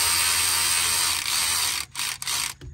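A ratchet wrench tightens bolts on a Dana 60 differential cover of a Ford F250/F350 truck, a rapid close-up clicking, with a few short pauses near the end.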